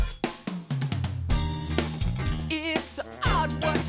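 A music mix played through the Waves MaxxBass plugin on the mix bus, a full band track with deep bass, drums and a sung vocal line, loud and continuous.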